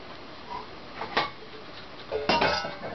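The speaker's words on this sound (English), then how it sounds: "So now I'm going to bring over one little tray of cupcake pans" A small metal cupcake pan tray set down on a kitchen counter, giving two brief clinks with a louder, ringing clatter near the end, heard alone over quiet room tone.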